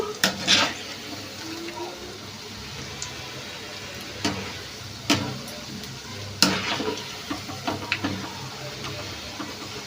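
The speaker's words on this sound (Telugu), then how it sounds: "గోల్డెన్ కలర్ వచ్చేదాకా వేపుకోవాలి." Egg pieces deep-frying in hot oil until golden for Egg 65, a steady close sizzle with occasional sharper crackles and stirring clatter throughout, no talking.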